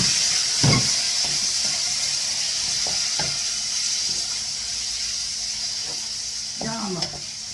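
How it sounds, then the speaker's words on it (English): Beef rump steak fries in a hot pan for a chop suey, giving a loud, steady sizzle with a few brief stirring scrapes close by. "I'm going to start cooking my beef."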